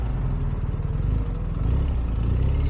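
BMW R 1250 RS motorcycle engine braking while riding, a steady low throbbing engine drone with wind rush, holding even throughout without talk.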